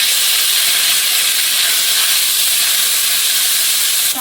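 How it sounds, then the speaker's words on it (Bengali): Panch phoron spices frying in hot oil at the start of a potato dal give a loud, steady, close sizzle that barely changes throughout. "তেলের মধ্যে একটু 5 ফোড়ন দিয়ে দিলাম, আলুর ডাল চাপাবো"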